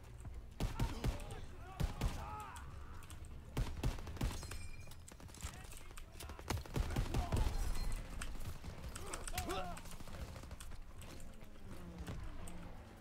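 Bursts of video game shooter gunfire, single shots and rapid volleys, crackle through a busy mix of mechanical clatter while players talk over the action.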